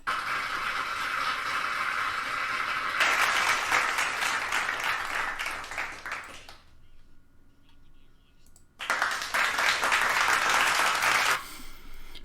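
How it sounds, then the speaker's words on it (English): Crowd applause surges in two loud waves separated by a quieter gap with faint background noise, each wave a dense rapid clatter of clapping. "Get the applause going"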